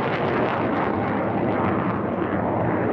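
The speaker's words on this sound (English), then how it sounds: "Look at the planform, the double delta planform of the Viggen as it pulls up." Saab JA37 Viggen double-delta jet fighter pulling up at an RAF Waddington airshow, a loud, steady, broadband jet roar that fills the whole stretch without letting up.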